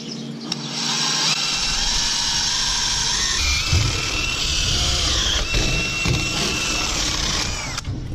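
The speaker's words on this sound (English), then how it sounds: "What we're gonna try to do is drill a hole the whole way through." A power drill bores steadily through a wooden cross piece on a dairy farm, a loud continuous whine with shifting pitch as the bit cuts, running almost the full length before stopping.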